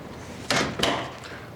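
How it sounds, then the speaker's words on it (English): A door in a family home is pulled shut, with a sharp swing and latch about half a second in, followed by a second, softer knock as it settles closed, both close and fairly loud with no talk. "Close the door, Sam."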